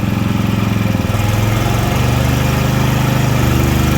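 A WEIMA WM6000EI 6 kW inverter generator running in eco mode gives a loud, close, steady engine drone with a throbbing low hum and slight rhythmic pulsing that holds even throughout, with no talking.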